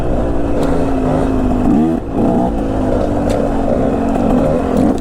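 A two-stroke enduro motorcycle rides over dry tree roots on a woodland trail, its engine droning steadily close by with a brief dip in revs near the middle before the throttle picks back up.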